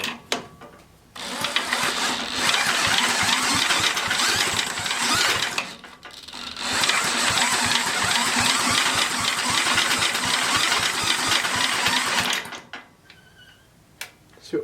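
An old hand tiller engine is pulled over and catches, then runs with a loud, rapid chugging that briefly dips before revving on steadily, and finally cuts out to near silence.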